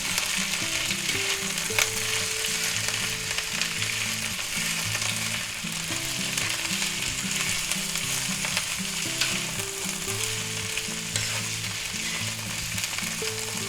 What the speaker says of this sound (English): we're going to stir them around. Get them coated with oil.